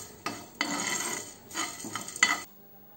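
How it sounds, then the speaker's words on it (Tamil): Dry spices clattering and scraping in a pan as they're stirred while dry roasting for a meal maker gravy, in several bursts of metallic rattling and shuffling, with no voices. "இதை நல்லா வறுத்து ஆற வச்சுக்கலாம்."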